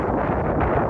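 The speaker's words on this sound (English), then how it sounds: "He's trying to block the wind for you guys." Wind buffets the microphone outdoors in a steady, rough rumble with no pause during an off-road mudding outing with a Cadillac CTS.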